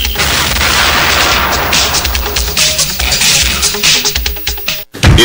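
Cannon blast sound effect in a Filipino AM radio station jingle, a loud booming burst with crackling, whip-like cracks that fill the clip before cutting to a brief silence near the end.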